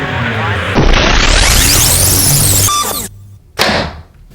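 A Grim Reaper Mini Mag broadhead arrow slams into MDF board with a loud sharp impact, followed by a sustained rushing noise and a second abrupt thud near the end.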